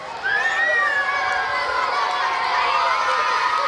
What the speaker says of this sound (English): Both the houses deserve a big round of applause